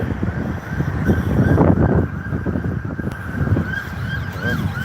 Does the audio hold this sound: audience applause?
no